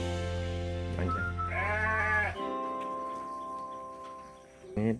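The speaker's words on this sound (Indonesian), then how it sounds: "ada ternak kambing, ada ternak domba." Sheep and goats bleat in a long village livestock pen, several wavering calls close by, one after another, then a final short bleat near the end.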